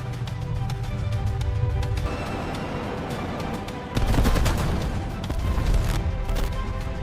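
Heavy gunfire in a staged military confrontation, dense rapid bursts and booming volleys, loud and continuous, intensifying sharply midway with a low rumble underneath.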